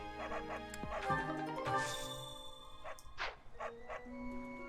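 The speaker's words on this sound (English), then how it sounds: "Dog, shut up. There's a dog." A small dog in Fire Emblem: Three Houses gives a string of short yips and whimpering barks, fairly faint, with melodic game sounds around it.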